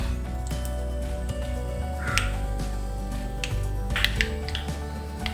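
Mustard seeds splutter in hot coconut oil for pavakka theeyal, scattered sharp pops over a steady low kitchen hum, close by with no talk.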